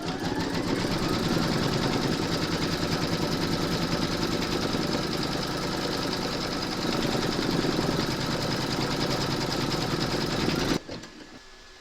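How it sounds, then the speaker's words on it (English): An embroidery machine stitches quilting on a table runner in blue thread, a loud, steady, rapid needle rattle and motor whir running close and continuous for about eleven seconds before stopping abruptly. "Load your thread colour for the quilting into your machine"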